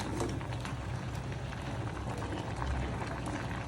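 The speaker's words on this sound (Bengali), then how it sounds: "শাকটা আলুর সাথে এখন ভালো মতো সিদ্ধ করে নেব" Pui shak spinach and potatoes bubble and simmer in a pan as a quiet, continuous close-up hiss of boiling liquid, with no talking.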